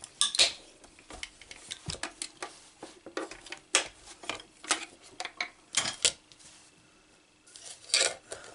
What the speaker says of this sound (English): Let's just cut another bow out.